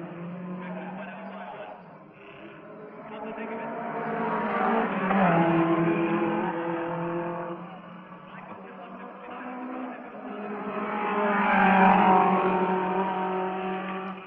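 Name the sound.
1957 Formula One race cars passing at Goodwood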